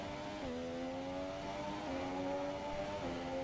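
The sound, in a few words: F1 car driving into pit lane in F1 2017 video game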